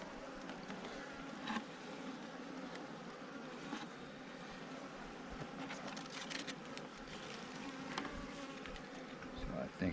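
Honeybees swarm around an opened hive in a dense, steady buzz that stays fairly faint throughout, with a few individual bees passing closer in brief louder sweeps.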